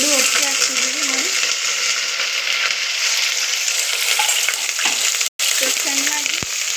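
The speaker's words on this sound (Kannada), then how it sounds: "ಕರಿಬೇವು ಮತ್ತೆ ಈರುಳ್ಳಿ. ಎರಡು ಒಟ್ಟಿಗೆ ಹಾಕ್ತಿದ್ದೀವಿ ನೋಡಿ" Curry leaves and onion fry together in a hot pan, a loud continuous sizzling hiss close up, with a voice talking over it at the start and a brief cut partway through.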